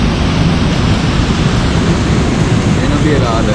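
A 120-metre waterfall at Chapada dos Veadeiros roars as a dense, loud, steady rush of broadband water noise with no breaks.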